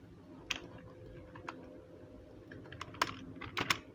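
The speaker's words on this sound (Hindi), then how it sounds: "और टाइप करता हूँ मैं" Quiet, sparse keystrokes on a computer keyboard, a few scattered clicks and a short cluster near the end, close but soft over a low background hum.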